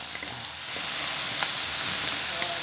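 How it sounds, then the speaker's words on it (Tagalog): Shrimp sizzle in a hot pan, a steady bright frying hiss with a few small pops and stirring scrapes, close and continuous, with no talk. "Nagisa na natin yung ating hipon"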